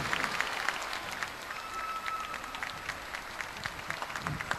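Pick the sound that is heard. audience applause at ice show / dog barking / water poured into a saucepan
audience applause at ice show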